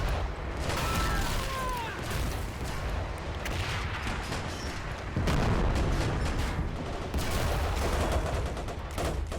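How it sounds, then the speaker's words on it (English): A North African desert battle in a World War II strategy game, with German Afrika Korps attacking an Australian defensive line. Dense gunfire rattles on and off with sharp bursts and clanking impacts of shots ricocheting off a Panzer III tank. "Wow, look at the ricochets just bouncing off of that Panzer III."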